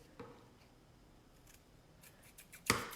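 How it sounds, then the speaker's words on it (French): Scissors snip away excess paper during a pigment ornamental border craft project, a few faint scattered rustles building to one sharp, close cutting snip near the end. "on prend nos ciseaux et on vient couper tout simplement le petit surplus"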